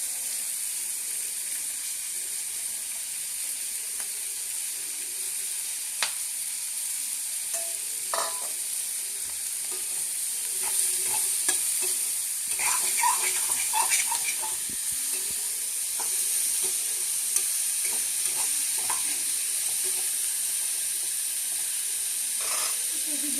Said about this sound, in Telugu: అదే ఆయిల్లో ఆనియన్ చిల్లీస్ వేసుకుంటున్నాను.